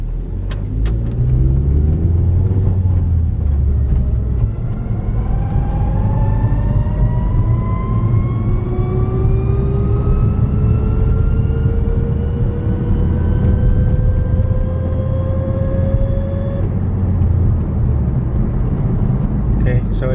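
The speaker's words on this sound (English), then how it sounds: "So it went into third gear, but it took a long time." A car with a damaged transmission holding a hole accelerates, its engine droning loud and steady with rising whine as it slowly, late, shifts into third gear; interior rumble runs throughout.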